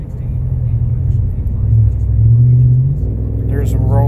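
A 2019 Ram 1500 Classic with a muffler delete and Y-pipe accelerates hard in a roll-on, a loud, steady low exhaust rumble heard from the cabin that swells and rises in pitch toward the end.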